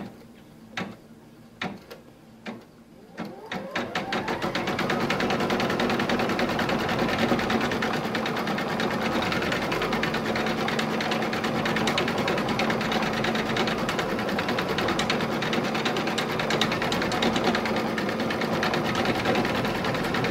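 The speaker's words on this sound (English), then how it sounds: "And I'll just lower the presser foot, and off it'll stitch." Sewing machine stitching the tack-down line of a seashell applique: a few isolated clicks at first, then a continuous fast, even mechanical whir with rapid ticking that runs steadily and close for the rest of the clip.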